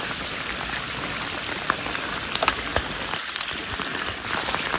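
Heavy rain falls at a fishing spot in a constant, dense patter, with occasional sharper drops standing out close by.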